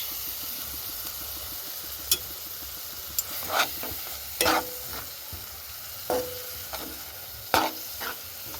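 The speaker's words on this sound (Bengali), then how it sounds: "আবার একটু ভালো করে কষাবো যতক্ষণ না টমেটোর কাঁচা গন্ধটা যায়" Turmeric, cumin and tomato paste masala sautéing in oil for tilapia curry, a soft background sizzle with scattered spoon scrapes and knocks against the pan, fairly quiet and close, no speech.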